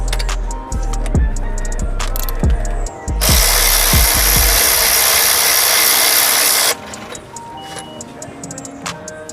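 A KIMO 12V cordless 3/8-inch electric ratchet wrench, rated at 40 ft-lbs and 400 RPM, whirs loudly for about three seconds while removing a bolt, with sharp knocks and clicks of handling before and after.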